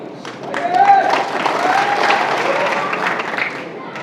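Crowd applause at a political gathering in Malegaon breaks out during a speech, a dense, steady wash of many hands clapping for several seconds with voices mixed in underneath.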